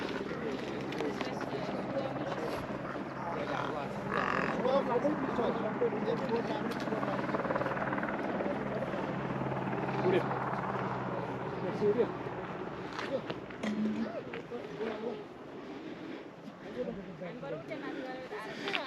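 A helicopter near the Namche Bazaar helipad on the Everest Base Camp trek, a steady rotor drone that fills the scene at moderate distance, with faint wind and a voice talking over it.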